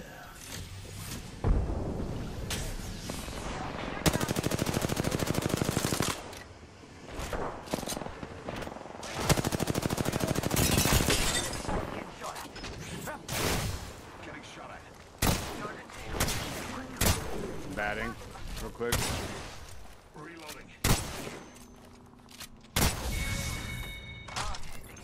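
Heavy automatic gunfire in the battle royale shooter Apex Legends: loud, close bursts of rapid shots come in repeated volleys, with thuds and brief pauses in between.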